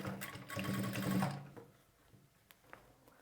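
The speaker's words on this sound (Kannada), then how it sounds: "ಇದ್ರ ಮೇಲ್ಗಡೆ ಒಂದು ಹೊಲಿಗೆನ ಹಾಕ್ಕೊಳ್ಳಿ ಈಗ ನೀವು ಬೇಕಾದರೆ ಡಬಲ್ ಫುಟ್ನ ಯೂಸ್ ಮಾಡ್ಬೋದು" A sewing machine stitches fabric piping in a rapid whirring run of about a second and a half, then stops, leaving faint clicks and handling noises nearby.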